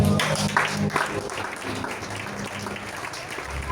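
A church congregation breaks into sustained applause and acclaim, a dense, steady wash of clapping with mixed voices underneath that runs through the whole stretch at an even, fairly loud level.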